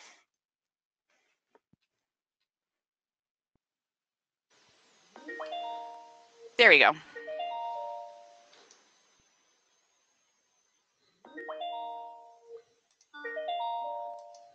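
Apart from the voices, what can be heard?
Skype incoming call chime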